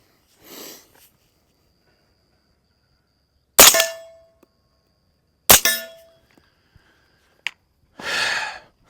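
Two sharp, loud reports from a suppressed .300 Blackout rifle, about two seconds apart, each trailing off quickly, followed by a faint metallic click and a short breathy rush of noise.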